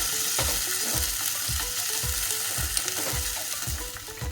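Ginger and asafoetida fry in a little ghee with a steady, close sizzle, while a spoon stirs the pan in a regular rhythm of soft scraping knocks about every half second.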